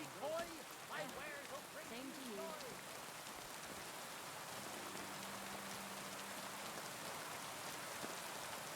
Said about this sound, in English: And sadly once again it's raining.